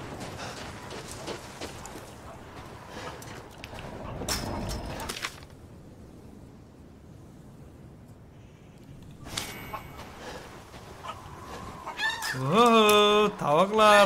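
Chickens in the Resident Evil Village video game clucking in short bursts, with a rooster-like crow rising near the end; a person speaks intermittently over game sounds.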